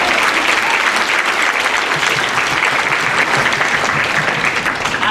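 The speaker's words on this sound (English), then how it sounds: "Let's give him a nice round of applause." Audience applause for the director of a middle school symphonic band at a winter concert, dense sustained clapping from a large crowd, loud and even from start to finish.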